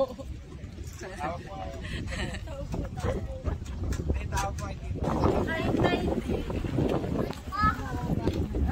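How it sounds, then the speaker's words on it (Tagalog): Strong wind blows across a seaside spot with boats nearby, a steady low rumble buffeting the microphone and swelling louder partway through, while people talk over it. "Sobrang lakas ng hangin."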